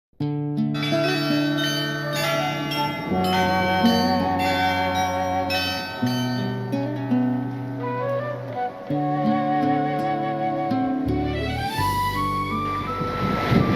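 Church bells peal from a bell tower in Tenerife, loud overlapping tolls striking in a steady, layered sequence, their ringing tones sustained throughout, captured on an old 1987 analog camera with some wind noise near the end.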